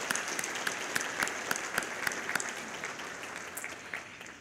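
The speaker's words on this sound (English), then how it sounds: "Can we give a round of applause for our sponsors?" A scholarship dinner audience applauds the sponsors with steady, moderately loud clapping from a room full of people, sustained throughout with no voices.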